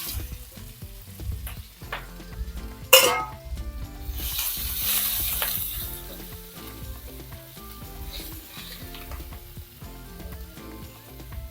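Grated ginger, garlic and chopped green chilli sizzle steadily in a hot pan for a chicken varattiyathu. A sharper clatter of stirring rises briefly over the continuous frying.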